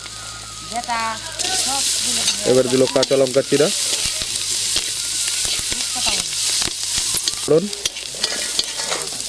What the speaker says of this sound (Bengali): এখন কড়াইতে তেল দিয়ে রসুন দিল শাক ভাজার জন্য